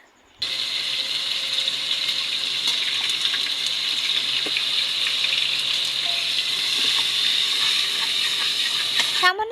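Water poured into a cooking pan of frying chilies, onions and ginger-garlic paste makes a steady rushing, hissing gush that starts abruptly and continues evenly for several seconds, close by with no speech.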